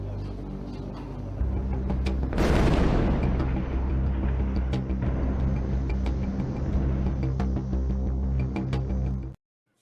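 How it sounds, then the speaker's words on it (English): A large airstrike explosion plays back from a video: a low rumbling drone, then a sudden booming blast that swells and rolls on in a long, dense roar before cutting off abruptly. "that explosion, that tower that you saw coming down"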